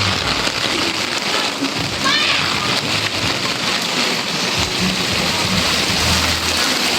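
Heavy rain pours steadily on a deserted Manila street, a dense, loud, unbroken hiss of drops hitting pavement and surfaces, with faint distant traffic-like rumble beneath.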